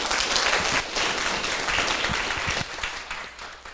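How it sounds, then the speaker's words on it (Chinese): A classroom audience claps warmly to thank a speaker after a lecture, with broad continuous applause filling the space throughout and tapering slightly toward the end. "我们再次用热烈的掌声，谢谢我们潘议长哈"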